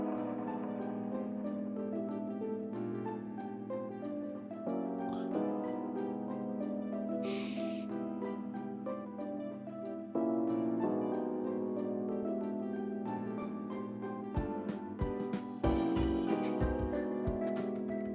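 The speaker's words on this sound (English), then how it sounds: "the organ, which sounds like this" Sustained organ chords from a house music track, held and changing every few seconds at a low, even level, with a few sparse percussive hits near the end.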